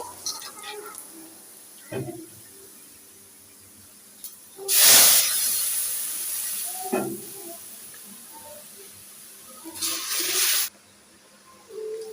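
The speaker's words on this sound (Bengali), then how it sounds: "পেঁয়াজ রসুন ভেজে নিলাম একটু কালো জিরা দিচ্ছি" Onion and garlic fry in hot oil as black cumin goes in, giving two loud hissing sizzle bursts between quiet stretches with a few light kitchen knocks.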